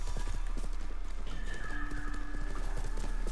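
Horse hooves clip-clop steadily in the video game Ghost of Tsushima, a quick rhythmic trot over a constant low hum, with a brief whinny-like tone mixed in.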